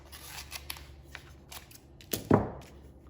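Scissors snip through adhesive tape at close range, with a few soft crinkles and light handling taps building to one sharp, crisp cut near the end.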